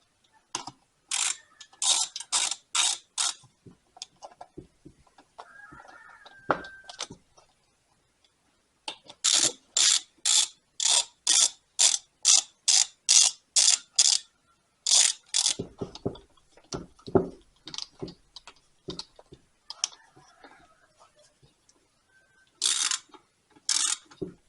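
Ratchet wrench tightening valve cover bolts on a Briggs and Stratton 18 hp opposed-twin engine during a rebuild: repeated bursts of rapid, crisp clicking strokes, close and loud, with short pauses between runs and no talking.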